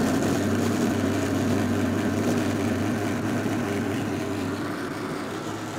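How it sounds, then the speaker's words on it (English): Steam engine working hard on a miniature railway, a steady low droning rumble with a constant hum running under it, close and fairly loud, holding even for several seconds with no talking. "As you can hear a din, and that steam engine down here"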